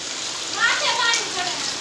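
Rain falls on a road with water splashing up, a steady bright hiss of drops and spray that holds throughout, close and moderately loud.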